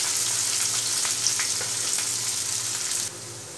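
Chopped onion frying in a pan for a Bengali-style chicken kosha, a steady dense sizzle close up with faint stirring scrapes, continuous and fairly loud, dropping slightly near the end.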